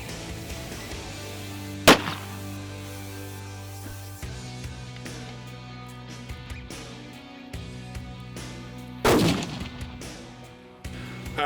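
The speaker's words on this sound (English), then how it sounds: "Parker, my grandson, is shooting my 260 McWhorter, 260 Remington." Two sharp rifle shots from a 260 Remington McWhorter rifle on an African safari hunt, spaced several seconds apart over steady background music, each a loud crack with a short decaying tail.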